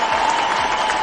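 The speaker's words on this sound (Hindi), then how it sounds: "एक जोरदार ताली होनी चाहिए उनकी।" An audience claps in a dense burst of applause at a talk, loud and continuous for the whole moment.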